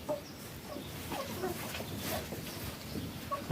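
A newly arrived rooster mingles with hens in a farm compound, giving soft, scattered clucks and short calls over a steady outdoor background.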